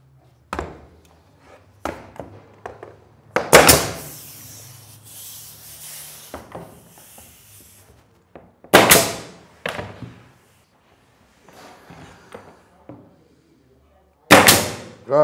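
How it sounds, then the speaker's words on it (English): A pneumatic concrete nailer fires into skirting by laminate flooring, giving several sharp, loud, close bangs spaced seconds apart, with quieter handling noise and a little talk between them. "It's a pneumatic concrete nailer."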